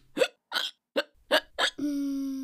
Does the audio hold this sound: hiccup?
yes